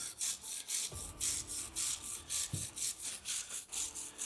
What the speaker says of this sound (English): I'm going to get the valve grinder out and make sure I'm grinding everything to the correct angle